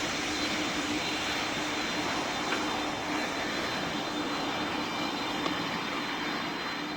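Airbus A320 jet engine in the PTFS flight video game, a steady, loud broadband roar with a constant hum running unbroken and alone throughout.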